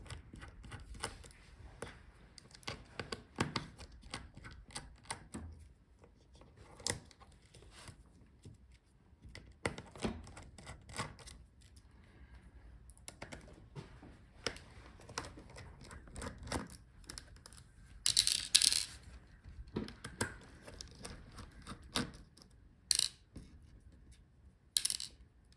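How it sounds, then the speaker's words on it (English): Small metallic clicks, taps and scrapes in an irregular, fairly close sequence as hinge screws are undone during a teardown of a Lenovo Yoga 7 16IRL8 laptop, with brief louder clatters of parts being handled. "so let's unscrew our hinges"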